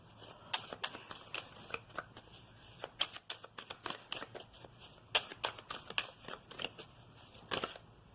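A deck of oracle cards being shuffled by hand, a quiet, close series of crisp riffling bursts and soft slaps repeating irregularly throughout, with no voices.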